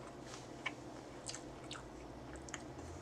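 Someone chews grilled homemade duck and goose sausage with a crunchy casing, producing soft, close mouth sounds with a few sharper crunchy bites spaced about a second apart over steady low background noise.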